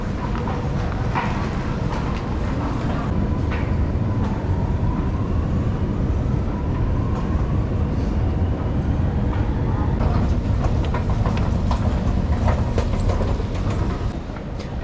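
Sydney's driverless metro train rumbles steadily at Central Station amid construction and renovation work, a constant low roar with faint clatter, while people talk nearby.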